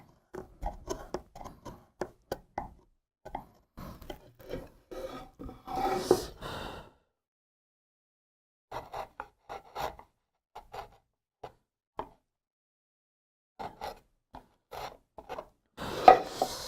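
A hand chisel pares wood for a dovetail joint in traditional Korean joinery, making short, quiet scraping and shaving strokes that come in irregular bursts separated by pauses, close to the listener, with no talking.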